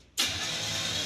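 A 1950 Ford F6 dump truck's engine cranks with a sudden loud onset, then a steady, harsh mechanical churn that holds evenly without catching, close and alone.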